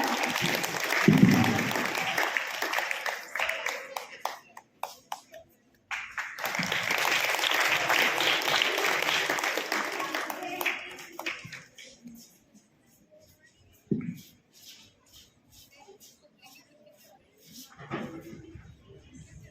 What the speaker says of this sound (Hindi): जोरदार तालियां बजाइए, सभी बच्चों का उत्साह बढ़ाइए।